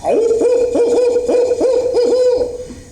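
A storyteller's voice imitates an old owl hooting far off at dawn: a loud run of about six quick, wavering hoots in steady rhythm, with no other talk.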